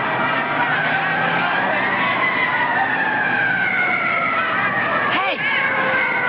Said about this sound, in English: Hey, that's a fire engine.